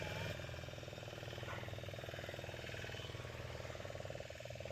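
A fishing boat engine runs steadily while the boat hauls a prawn net, giving a faint, continuous mechanical drone with a low pulsing hum from a distance and a murmur of voices beneath it.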